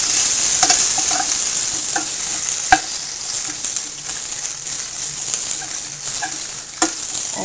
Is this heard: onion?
yes